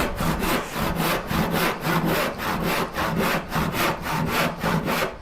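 A hand saw cuts wood for a Shaker Enfield cabinet with steady, rhythmic strokes, about a dozen evenly spaced rasping passes in quick succession, close and loud with no talk.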